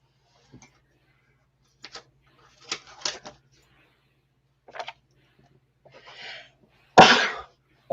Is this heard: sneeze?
yes